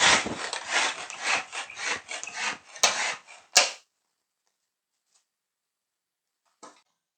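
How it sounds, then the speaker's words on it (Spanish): Biscuits crushed inside a bag with a rolling pin, a close, continuous gritty rubbing and crunching for a few seconds with a sharper crack near the end, then near silence broken by a faint brief rustle. "le podéis meter dentro de una bolsa y con un rodillo las aplastáis"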